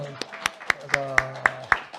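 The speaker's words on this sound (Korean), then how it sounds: "박수 한번." A church congregation claps in a steady beat, about seven crisp claps roughly a quarter second apart, over sustained keyboard or organ chords during a worship service.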